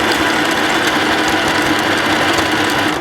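A sewing machine runs steadily, stitching a zigzag seam on a knit dress near the ribbed edge, with a loud continuous mechanical whirr and rapid needle clatter that ends abruptly.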